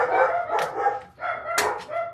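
Dogs barking nearby, two sharp bursts of barks about a second apart over a low background hum, with no talking.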